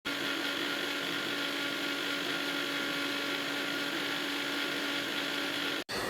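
A mixer grinder whirs steadily at full speed blending homemade mayonnaise with oil, a loud continuous motor drone that cuts off abruptly near the end.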